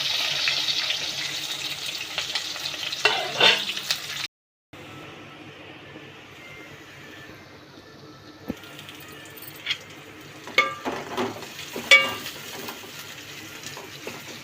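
Mustard seeds, cumin, onions and green chillies frying in oil for a Telugu-style ivy gourd curry, giving a steady hiss with scattered sharp pops and crackles, a brief dropout partway, then quieter sizzling.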